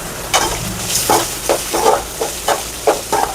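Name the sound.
curry leaves, onion and green chillies frying in pan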